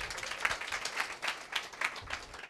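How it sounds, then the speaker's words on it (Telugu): Church audience clapping at a preacher's request, a short, fairly faint burst of mixed applause with no talk over it. "చప్పట్లు కొట్టండి ఒకసారి"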